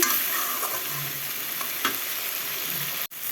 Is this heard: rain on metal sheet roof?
no